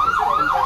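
Wailing ambulance siren at the Ocean World park show in Puerto Plata, rising and falling in steady sweeps, loud and close with no talk over it.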